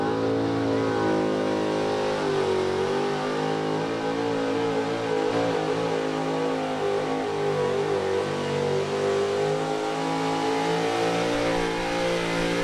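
A 1970 Chevy super modified pulling truck drags a sled at a county fair truck pull, its engine roaring loud and near in one sustained, rising, full-throttle howl with no pause.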